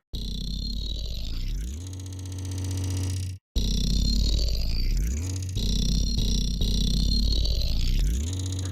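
Sustained synthesizer sine wave tones with pure, gliding pitches that sweep up and down, briefly cutting out before resuming in a steady electronic drone.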